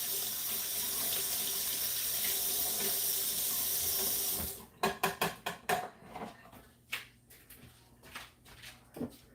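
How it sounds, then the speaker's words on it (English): Water runs steadily from a kitchen tap into a sink to rinse something while cooking dinner at home, a continuous close hiss that cuts off abruptly partway through, followed by scattered clinks and handling noises. "Y'all rinse this off."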